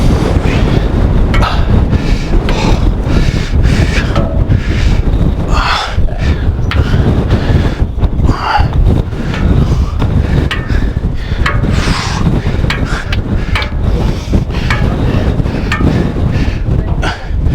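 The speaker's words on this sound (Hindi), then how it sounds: "खतरनाक हवा चलता है इधर ऊपर" Strong wind on Kalsubai peak, the highest summit in Maharashtra, roars and buffets the microphone with loud, continuous rumbling and gusty swells throughout.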